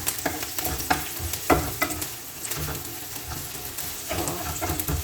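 Garlic sautéing in a pan in a home kitchen, a steady close sizzle broken by sharp scraping and stirring clacks of a utensil against the pan.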